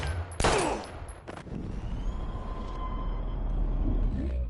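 Gunfire in the video game Life is Strange: a loud, close burst of shots that fades into a sustained rumbling tail, with a second sharper crack shortly after, over steady low background noise.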